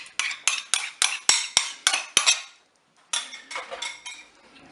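Spoon stirring an egg, lemon and crème fraîche mixture in a Cookeo multicooker, a quick run of crisp metallic clinks and scrapes against the pot, a short pause, then softer scraping strokes.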